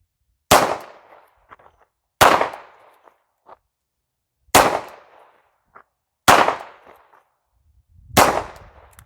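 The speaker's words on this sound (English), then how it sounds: "We'll shoot a nice tight group this time with the first volley." Five sharp handgun shots from a low-cost self-defense pistol crack at a target, spaced about two seconds apart, each loud and close with a brief echoing tail and near silence between.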